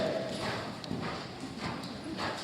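Horses' hooves clip-clop steadily on the surface of a dressage ring, a continuous rhythmic patter of footfalls at moderate distance with faint background noise.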